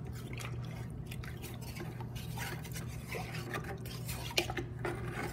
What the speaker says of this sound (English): Grab our flask and use the butter knife to scrape out any remaining plaster.